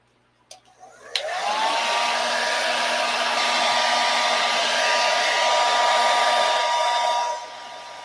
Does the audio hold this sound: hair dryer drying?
yes